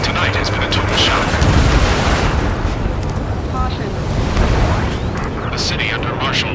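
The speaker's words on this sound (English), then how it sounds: "Gunfire and the roar of jets echoing through the streets." Gunfire, explosions and roaring jets from the Ace Combat 7: Skies Unknown video game, in a city under martial law: a dense, loud, continuous rumble with booming surges and sharp bursts, with a voice talking over it.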